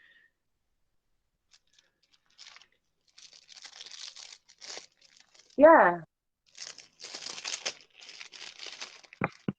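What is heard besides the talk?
plastic bag crinkling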